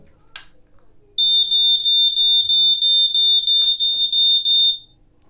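A portable battery-powered smoke detector, triggered by its test button, sounds a loud, piercing 85-decibel high-pitched beep pattern of rapid repeated pulses for a few seconds after a brief click.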